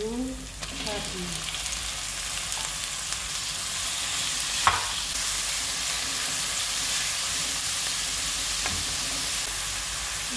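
Ground meat fries in a pan with onions for a meat and vegetable stew, giving a loud, continuous sizzle broken by a few clinks and scrapes of stirring.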